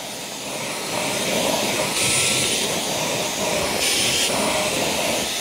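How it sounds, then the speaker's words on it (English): A Tineco ONE S5 wet-dry vacuum runs on max suction, a loud, steady whooshing roar that holds constant throughout with no voices. "I'm gonna put it on max."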